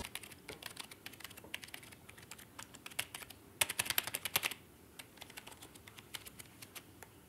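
Soft, fast key clicks patter steadily from a quiet Corsair K57 RGB wireless keyboard, with a slightly busier burst of typing in the middle.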